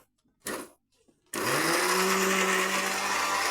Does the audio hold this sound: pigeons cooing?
no